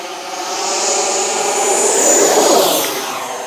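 An FMS Avanti S 90mm electric ducted-fan RC jet takes off with flaps deployed, its high, whooshing fan roar swelling loud and close as it accelerates, then easing slightly as it climbs away.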